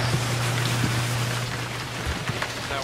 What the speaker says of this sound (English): That water spray is so loud.